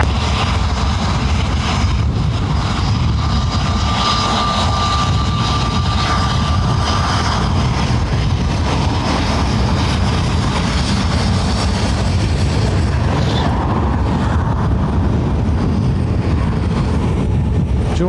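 An airliner landing at Dublin Airport on runway 28 left in gusty high wind, heard as a loud, steady broadband roar of engines and rushing air that holds throughout with no voices.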